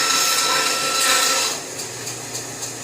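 A band saw cuts a wood segment, making a loud, steady rasping whine for about a second and a half before it eases to a lighter running hum.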